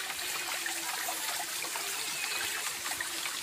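Shower water running in a steady, hissing stream, close and continuous with no talk over it.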